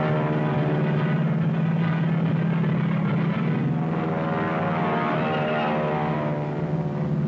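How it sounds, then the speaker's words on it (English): World War II P-38 fighter planes dive in to attack a formation, their propeller engines making a loud, steady droning roar that holds for several seconds with no voices over it. "Our lead flight peeled off to dive in and break up the formation."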